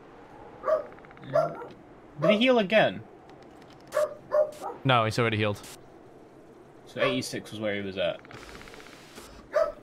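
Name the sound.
dog barking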